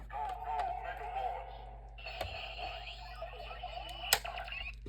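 A Power Rangers Megaforce Morpher toy plays an electronic sound effect: a tinny, buzzy tone with a rising synthetic sweep and a sharp click partway through, close and moderately loud, with a person's voice faintly in the background.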